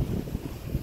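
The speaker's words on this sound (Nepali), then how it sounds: "यो ढुङ्गामाथि चाहिँ टक्कै यस्तो दामी हावा आउँछ" Wind gusts over a seaside rock on an island beach in the Seychelles, a low buffeting rush against the microphone, brief and fairly faint, with no voices.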